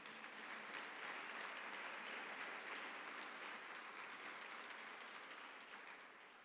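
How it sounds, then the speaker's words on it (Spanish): Sustained congregational applause for the Lord at a Christian healing sermon, a dense steady wash of many hands clapping that holds evenly and tapers slightly at the end. "Dele un fuerte aplauso al Señor."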